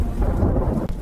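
A strong storm roars outside a cabin during a blizzard as a dense, loud, continuous wash of rain and low rumbling that stays steady throughout, with no voices.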